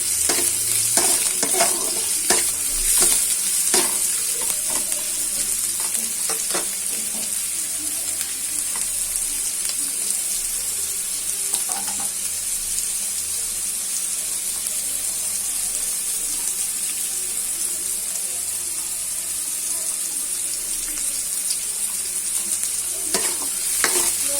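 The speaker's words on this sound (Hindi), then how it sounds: "प्याज को एंति भल भाबरे तेल सहित मिक्स कर दबा।" Chopped onions stirred and fried in hot oil in a pan for aloo chop, giving a steady close sizzle with scraping stirs and a few sharper clinks near the start.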